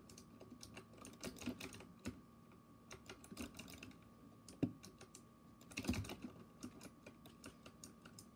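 Rapid clacking keystrokes on a $100 computer keyboard, close and moderately quiet, in irregular bursts with a couple of sharper louder hits near the middle and end, no talking.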